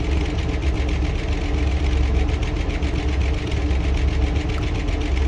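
A video game motorcycle engine, from Tower Unite, idles steadily with a rapid, even rumble and faint rhythmic ticking, unchanging throughout.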